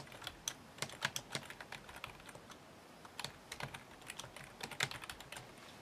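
Quiet, close keyboard typing, a fast irregular patter of key clicks in short bursts with brief pauses, no voices.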